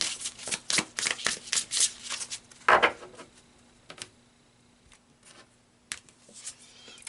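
Tarot cards are shuffled by hand in a quick run of crisp riffling flutters and soft slaps, close and fairly quiet, thinning out into a few scattered taps and card handling toward the end.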